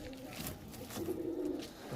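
A pigeon coos softly in a loft, a short low murmuring call heard close against quiet background rustle.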